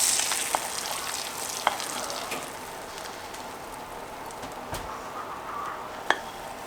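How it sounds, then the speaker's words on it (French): Eggs for Turkish-style eggs fry in a pan while being basted with foaming butter, a constant close, crackling sizzle broken by a few sharp spoon clicks and pops. "on va venir arroser avec le beurre"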